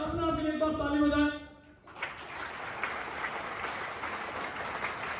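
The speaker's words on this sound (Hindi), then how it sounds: "अपना भी एक बार ताली बजाएं।" Audience applause at a celebration event in Jodhpur, a steady broad wash of clapping that follows a brief stretch of speech and runs on evenly to the end.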